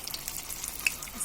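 Chicken tikka pieces frying in a pan over medium heat, a brief, light crackling sizzle with small pops, close and unaccompanied.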